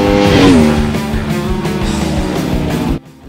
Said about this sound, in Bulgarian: Изпускателната система има изключително добър звук